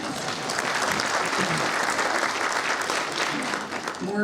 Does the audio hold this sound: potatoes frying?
no